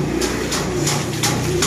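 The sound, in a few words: racing pigeons cooing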